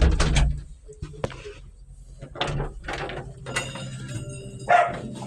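A puppy gives several short, sharp barks and yips in scattered bursts, fairly close, with some clatter and faint background noise between them.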